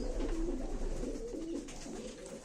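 Tumbler pigeons coo in soft, low, rolling calls that repeat several times, close by and steady, over a constant low hum with no talking.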